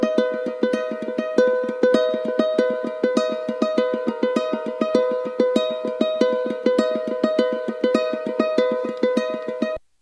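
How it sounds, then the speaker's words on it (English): Ukulele recorded as a soft textural layer in a music track, rapid evenly plucked repeating notes in a steady rhythm, close and clear, then stopping abruptly at the end, with no voices. "I also recorded my ukulele"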